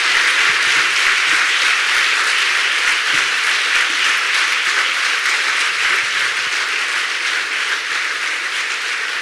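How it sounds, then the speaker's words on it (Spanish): A conference audience gives Pilar Rahola a long round of applause, with dense, steady clapping from a large crowd held at high level for the whole stretch and easing slightly near the end. "un aplauso muy grande para Pilar Rahola"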